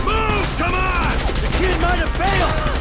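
Rapid gunfire rattles in Grand Theft Auto V as police are shot, loud bursts of shots repeating over sirens and a steady game background, with talking over it.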